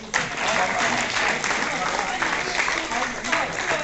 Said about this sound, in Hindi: आप लोग ताली बजाते रहें।